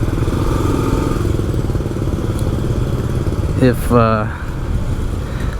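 A motorbike rides through Soi Buakhao street in the early evening, its steady engine drone running throughout with road noise and a brief tonal blip like a horn or passing voice midway.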